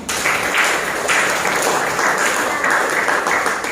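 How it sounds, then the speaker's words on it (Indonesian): Classroom applause for everyone during a Sundanese script lesson, a steady, dense wash of many hands clapping together for a few seconds, fairly loud and close, with no talking over it. "Tepuk tangan buat semuanya."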